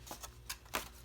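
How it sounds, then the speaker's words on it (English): Scissors snipping through the paper of a handmade sticky notepad, four short crisp cuts in quick succession, close and quiet, with no talking. "I'm going to place my scissors here, and then I'm just going to cut through that X"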